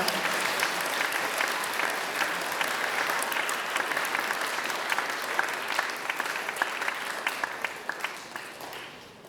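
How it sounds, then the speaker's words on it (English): An audience at a school recognition ceremony applauds the Interact Club and its officers with a steady wash of clapping. A few sharp individual claps stand out before it thins and fades at the end. "Please give them all a big round of applause."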